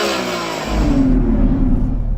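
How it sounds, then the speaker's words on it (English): A turbocharged V10 car engine revs loudly up close, its roar swelling and holding as the throttle opens, with a deep rumbling exhaust. "Can you hear the turbos?"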